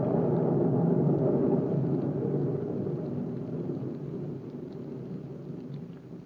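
Steady heavy rain with a deep, continuous thunder rumble as a radio drama sound effect, loud and unbroken, slowly fading slightly toward the end, with no voices.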